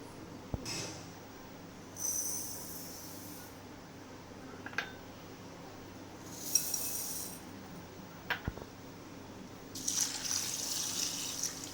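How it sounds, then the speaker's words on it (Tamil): Water running and swishing in a container in intermittent bursts as moong lentils and ragi millet are washed, with occasional light clinks and taps, quiet and close. "தண்ணி ஊற்றி நல்லா ஒரு ரெண்டு மூணு தடவை கழுவி எடுத்துக்கலாம்"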